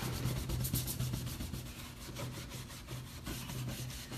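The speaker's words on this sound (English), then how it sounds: "I can get this beautiful sheen just rubbing over my surface" A horsehair buffing brush rubs wax over a painted kitchen cabinet surface, giving a steady, close scrubbing and brushing texture in repeated strokes that continues without pause.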